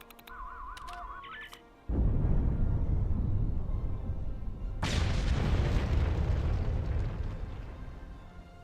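An explosion in the video game Star Trek Online: after a brief electronic warbling tone, a sudden loud blast erupts and rumbles on, followed by a second burst and a long, fading rumble.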